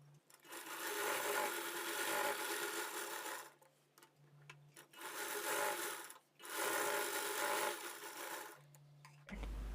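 Sewing machine stitching a blouse lining, running in three long bursts with brief pauses between them, close and steady, with no talk.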